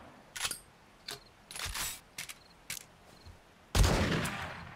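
Gunfire in the video game 7 Days To Die: several sharp, loud single shots spaced irregularly, with a few quicker bursts and a final heavier blast that rings on, no talk.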